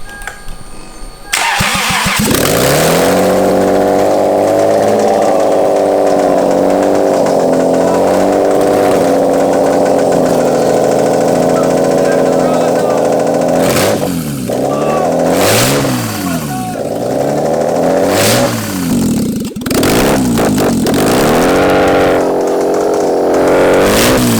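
A car engine, removed from the vehicle and sitting on a stand, cranks and catches into a loud, rough idle. It is then revved in several rising and falling swells, with voices heard at moments over it.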